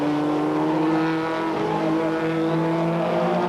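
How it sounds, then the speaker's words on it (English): Touring race cars at a 1989 British Touring Car Championship race, engines howling loud and steady as they pass close, with a sustained revving whine and no talk. "This is Rob Gravitt's opportunity to close the gap and lap the 2 BMWs"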